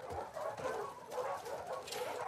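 Dogs in The Last of Us Part 2 give short whimpering yips and soft barks in quick bursts, close and moderately loud, over a low game background.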